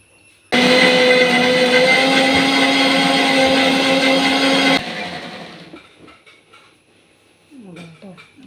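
A mixer grinder whirs loudly and steadily for about four seconds, grinding roasted coconut with chilli powder and spices into a paste, then stops abruptly, leaving faint kitchen sounds and brief talk.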